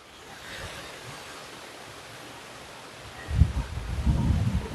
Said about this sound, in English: It's getting windy out here too.